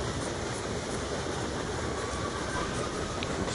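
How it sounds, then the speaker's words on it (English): Trains rumble past in the Skyrim video game as a dense, steady clatter and roar that holds evenly throughout, with no voices over it. "Fuck tons of trains."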